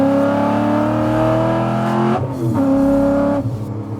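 A modified race car rolls into the pit lane, its engine droning loud and close with a steady harmonic hum, then dropping as it lifts off and revving briefly again before easing down.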